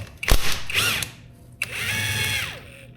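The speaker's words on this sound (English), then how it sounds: "I should be able to pop out these bottom bolts with a impact" An impact wrench takes the bottom fork bolts out of a 1995 Honda XR250L motorcycle in a garage, firing two loud, close bursts of rattling hammering separated by a short pause.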